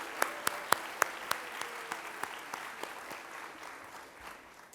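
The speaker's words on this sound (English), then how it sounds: "let us all just give a round of applause to all these folks" An audience at a train line grand opening and ribbon cutting applauds in a steady patter of claps, with a few sharper claps standing out, fairly distant and moderately quiet.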